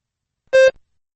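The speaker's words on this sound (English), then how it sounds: "Begin to prepare your response after the beep." A single short electronic beep, clean and steady, about a fifth of a second long, alone against silence.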